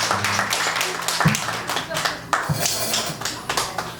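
Audience clapping at a disabled persons' choir festival in Incheon, scattered uneven claps mixed with someone speaking over a PA, with some low thumps and room noise.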